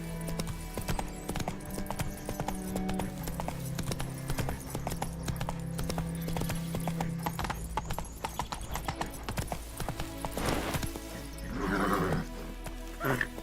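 Hoofbeats of the horse Roach galloping in The Witcher 3, a steady rapid clip-clop close up with a whinny near the end, over game ambience and faint background voice.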